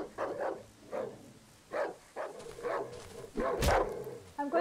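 A dog barks repeatedly in the dark survival horror game Darkwood, a series of close, loud barks in uneven rhythm ending in a sharp burst.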